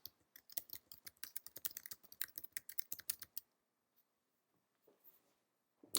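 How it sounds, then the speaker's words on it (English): Rapid, close typing on a computer keyboard, a dense run of clicking keystrokes that stops abruptly partway through and is followed by near silence with a few faint scattered clicks. "we can simply type the plans."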